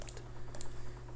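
Quiet clicks of computer keyboard typing come in short bursts of keystrokes over a faint steady hum while a real-time strategy game is played.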